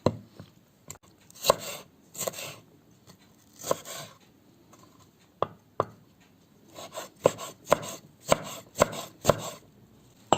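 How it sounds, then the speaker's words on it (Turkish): Irregular knife chops on a board, close by, coming in scattered clusters with quiet gaps, then a quicker steady run toward the end. "Bütün malzemelerimi küçük küçük minik minik doğruyorum arkadaşlar."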